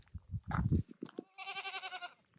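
Goats on a homestead bleat close by, a couple of short calls followed by a long quavering bleat, with some low thumps and rustling around them.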